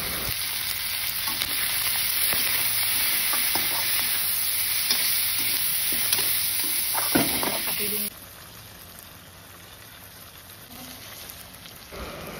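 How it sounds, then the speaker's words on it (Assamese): Boiled pork meat fries in a pan, a loud continuous sizzle with stirring scrapes that drops suddenly to a quieter frying hiss partway through, with some talk. "গাহৰি বইল কৰি থোৱা গাহৰি মাংসখিনি এতিয়া ইয়াতে ভজা হৈছে"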